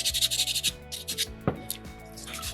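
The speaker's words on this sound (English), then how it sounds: "Do a lot of rinsing when I'm sanding." Soapstone carving being sanded by hand, a steady rhythmic rasping rub in repeated short strokes, close and fairly quiet, with one sharp knock partway through and no talking.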